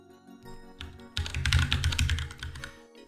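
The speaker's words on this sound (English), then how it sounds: "So Kane Ramsey, I'm gonna type that in here" Typing on a computer keyboard at close range, a quick irregular flurry of clicking keystrokes that builds to a dense burst in the middle and then trails off, heard alone without talk.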